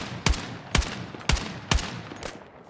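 Four sharp sniper gunshots crack out in a video game, evenly spaced about half a second apart and loud, each ending in a brief ringing tail, with no talking.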